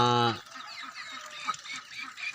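Loud squawking calls from chickens open the clip, then softer repeated clucking and low chick calls continue nearby.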